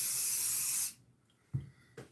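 An aerosol can of string lubricant sprays onto an Aria Pro guitar in one loud, close hiss lasting about a second, followed by quiet and a couple of soft handling knocks.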